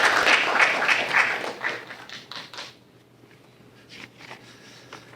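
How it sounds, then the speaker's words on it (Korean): Audience applause at a Seoul National University humanities college award ceremony for the Amgok academic prize, a broad burst of clapping that is loud for nearly three seconds and then thins to scattered, fainter claps. "네, 큰 박수 부탁드리겠습니다."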